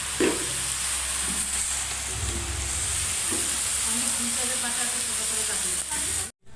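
Malabar spinach (pui shak) stalks frying in a pan, a steady hissing sizzle broken by scraping stirs and clinks, with a sudden cut near the end.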